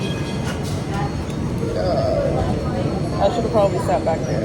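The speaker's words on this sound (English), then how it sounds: "we back in the trolley" A trolley train rolls along rails, a steady broadband rumble and rattle with faint squealing tones, heard from inside the car beneath nearby conversation.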